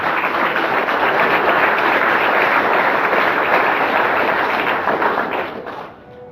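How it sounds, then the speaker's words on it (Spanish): Congregation in a church applauding, a loud, dense and even wall of clapping that holds steady for several seconds before fading out at the end. "Vamos, aplauda al Señor."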